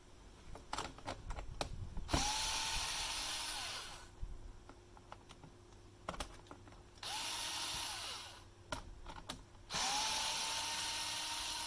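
Screws come out of a Sunbeam Brita WF6000 water filter chiller during a teardown. A power screwdriver whirs in three sustained bursts, each spinning up and down, between small clicks and handling taps.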